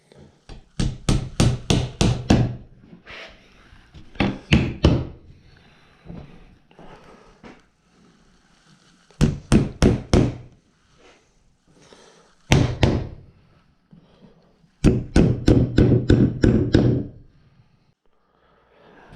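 Hammer strikes drive nails into bent willow hoop wood, landing in quick bursts of four to seven sharp, close blows separated by pauses, with faint handling noise between the groups.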